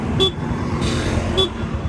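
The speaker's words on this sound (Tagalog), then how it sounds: "At busina." Two short, thin horn beeps from a 2022 Honda Dio scooter, about a second apart, sounding over a steady low engine rumble.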